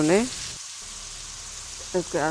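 Tomatoes, green chillies and spices cooking in a pan for baingan bharta give a soft, steady sizzle, with brief talking at the start and end.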